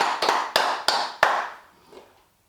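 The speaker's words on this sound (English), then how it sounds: "A round of applause for all of you" A handful of sharp, separate hand claps ring out in an uneven rhythm, each trailing off quickly, then the sound fades into quiet; close and fairly loud, with no voices.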